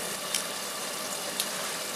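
Homemade onion rings frying in hot oil, giving a steady close sizzle and crackle with a couple of sharper pops and no talk.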